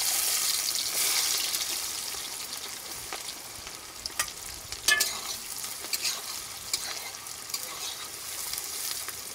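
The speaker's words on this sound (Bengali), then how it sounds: "পেঁয়াজটাকে এখন ভালো করে ভেজে নেব" Chopped onions fry with bay leaves, dried red chillies, whole garam masala and cumin for a Patnai chicken curry, a close crackling sizzle punctuated by sharp spatula scrapes and stirring knocks, with no voices.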